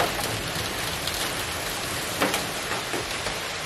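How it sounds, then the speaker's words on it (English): A hailstorm pelts the ground outside, a dense, constant patter of ice striking surfaces with a few sharper individual impacts standing out, and nobody talking. "That's a fucking hailstorm."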